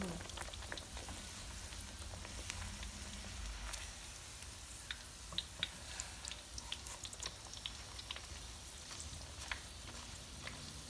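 Shrimp cakes fry in a pan with a steady, quiet sizzle and scattered small crackles and pops, continuous throughout with no voices.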